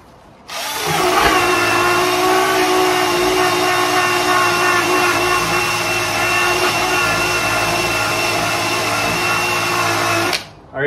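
A power drill whirs steadily at close range for about ten seconds, a constant high motor whine that starts abruptly and cuts off at the end.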